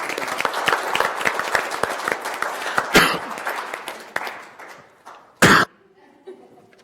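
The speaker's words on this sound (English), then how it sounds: "Would you please join me in a round of applause?" Attendees at a county board of supervisors meeting give a round of applause, sharp individual claps ringing out in a brisk, uneven rhythm. A cough cuts through midway, the clapping thins out, and a second loud cough follows near the end.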